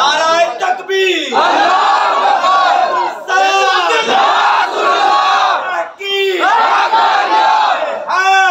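A large crowd at a religious conference shouts the takbir response in unison, three loud sustained roars separated by brief pauses, filling the space.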